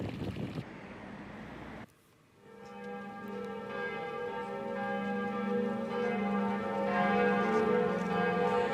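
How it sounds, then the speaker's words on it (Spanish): Bells of Notre Dame Cathedral in Paris tolling for Pope Francis, resonant ringing tones that swell and sustain after a brief noisy start and short gap, heard alone with faint wind. "Las campanas de la Catedral de Notre Dame de París sonaron esta mañana 88 veces para recordar al Papa Francisco"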